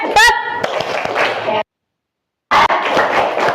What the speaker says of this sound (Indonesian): Oke, tepuk tangan untuk Sarul